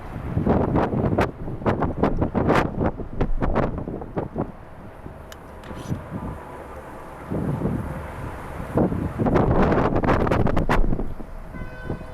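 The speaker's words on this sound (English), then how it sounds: "Despite the wind." Strong outdoor wind near an airport batters the microphone in loud, irregular gusts. The rumbling thumps rise and fall across the whole stretch with no voices.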